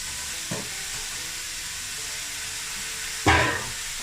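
Onion flowers go into a hot pan with coconut milk and are stirred, giving a steady frying sizzle with a soft scrape of the spoon early on and a louder stir-and-hiss surge near the end.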